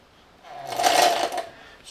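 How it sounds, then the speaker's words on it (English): A hand suction gun draws and pumps gear oil for a 1967 MG Midget differential, giving a brief close squelching, sucking burst that swells and fades within about a second. "I use one of these suction guns."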